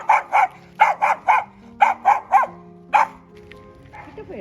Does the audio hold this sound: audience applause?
no